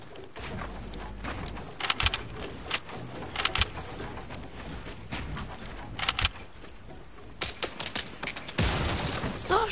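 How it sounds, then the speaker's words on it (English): Gunfire aimed at the player in a PS4 video game, with repeated bursts of shots and sharp cracks over a busy, continuous game soundscape, loud and dense throughout. "Stop shooting me down."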